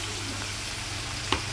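Meat cooking over low heat in a pan, a soft continuous sizzle and gentle bubbling up close, with a single small clink near the end.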